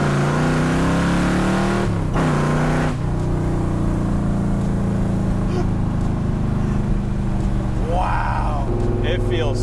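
A 1940 Ford hot rod powered by a 392 Hemi drones loudly from inside the cabin, its engine pitch climbing and shifting as it accelerates, with a voice talking over the steady roar.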